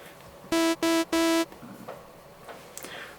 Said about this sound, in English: So now we have a basic saw sound.